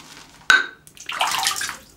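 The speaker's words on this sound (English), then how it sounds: "Wow, that's a ton of water I've just thrown in the bowl there." Water is thrown into a shaving soap bowl during a wet shave: a sharp close knock, then a loud broadband splash and slosh lasting under a second, with no talking.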